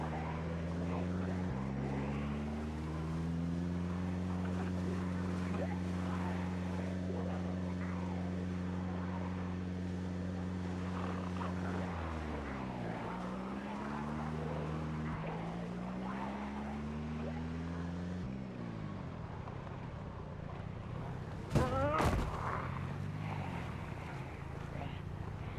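A motorcycle engine in Project Zomboid drones steadily while riding, pitch shifting as the bike speeds up and slows, with a brief sharp clatter near the end.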